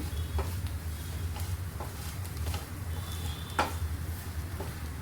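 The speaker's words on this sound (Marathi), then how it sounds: "बघा कारळी आपली भाजून झालेली आहे मस्त अशी ह्या पद्धतीने अशी फ्राय करून घ्यायची" Bitter gourd slices frying in a pan give a soft, steady sizzle with occasional faint ticks and light pops, quiet and even throughout.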